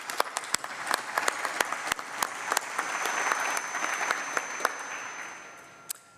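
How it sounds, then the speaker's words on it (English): Audience applause for event sponsors at an evening gala, a steady wash of many hands clapping with sharp individual claps standing out, swelling in the middle and tapering off near the end, with no talk over it. "please give a round of applause"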